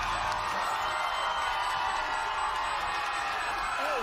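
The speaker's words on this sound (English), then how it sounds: "The crowd wants it, chanting away." A large arena crowd at a G2 Esports vs Sentinels VCT Americas 2024 esports match keeps up a steady, loud roar of cheering throughout, a dense continuous wash of voices with no pauses.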